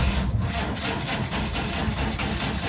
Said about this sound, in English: Yeah, that's cranking a lot more than the other one was.